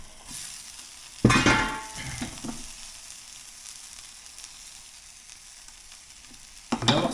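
Cordon bleu frying in a pan, turned for a last sear on each side: a steady close sizzle runs throughout, with a loud clattering stir or scrape early on and another near the end.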